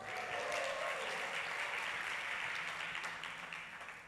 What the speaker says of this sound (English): can we give Linda Scott Reed a round of applause